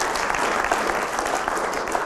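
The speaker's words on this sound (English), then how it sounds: "Let's give them a round of applause" A steady, dense round of audience applause rises for the band and singers at a Christmas concert, sustained and fairly loud throughout.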